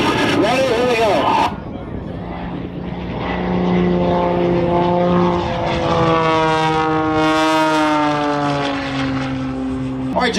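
Propeller-driven airplane droning loudly through left-and-right rolls at an airshow, its engine tone rising and falling steadily and shifting in pitch as it maneuvers, after a short burst of voices at the start.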